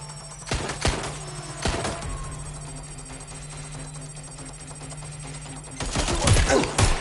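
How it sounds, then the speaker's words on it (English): Video game gunfire: a few sharp, separated shots early on, then a dense rapid volley of automatic fire near the end, over a steady low hum. "Taking fire!"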